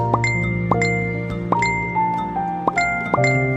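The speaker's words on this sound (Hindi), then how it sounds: "उसके फोन पर लगातार 4-5 बार नोटिफिकेशन वाली घंटी बजी" A phone's notification bell rings in quick succession, about six bright, bell-like tinkling dings stacked over a sustained tone, loud and close.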